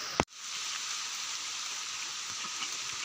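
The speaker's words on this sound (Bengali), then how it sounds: "এই দেখুন প্রচণ্ড বৃষ্টি, যে একটা বারও থামবে তার কোনো উপায় নেই, পড়তেই আছে তো পড়তেই আছে।" Heavy, steady rain pours down without pause in a rural farmyard, a dense even hiss from start to finish after one sharp brief knock near the beginning.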